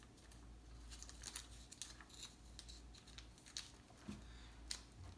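A paper post-it note is folded and creased by hand at a card table, giving soft crinkling and crisp paper snaps, close and quiet with no talking.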